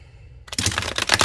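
Tarot cards being back-shuffled, a quiet lead-in followed by a dense, fast burst of papery riffling and clicking card edges, close and fairly loud.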